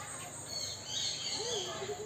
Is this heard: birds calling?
yes